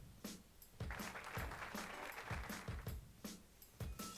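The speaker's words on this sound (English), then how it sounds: "Let's all give her a big round of applause for making our home a little bit more heavenly." Crowd applause in the Dragalia Lost game, steady clapping from many hands lasting several seconds at a moderate level with no talk over it.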